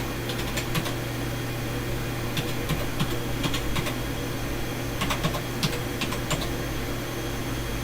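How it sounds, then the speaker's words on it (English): Windows 98 product key being typed on an old computer's keyboard: soft, irregular key clicks in scattered clusters over a steady background hum of fans, with no talking. "I'm typing in the product key right now"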